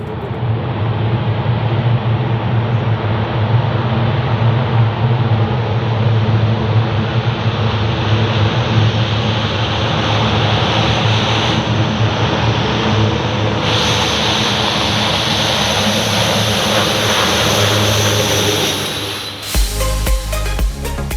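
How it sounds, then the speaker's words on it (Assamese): An Indian Air Force aircraft lands on the emergency airstrip built on National Highway 37 at Moran in Dibrugarh: a loud, sustained jet roar fills the scene, its high whine rising before an abrupt rumbling change near the end. "৩৭ নম্বৰ ৰাষ্ট্ৰীয় ঘাইপথতে প্ৰধানমন্ত্ৰীৰ বিমানৰ অৱতৰণ"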